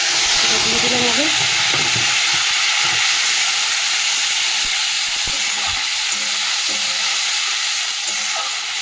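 Grated tomato, salt, turmeric and green chili hit hot oil in a pan with a loud, close, continuous hissing sizzle that barely changes. A faint voice is briefly heard underneath near the start.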